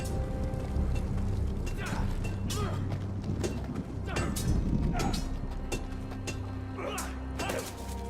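Horse hooves clip-clop steadily at moderate distance in a cold northern outpost, with faint mechanical creaks, a distant whinny and voices talking over the scene.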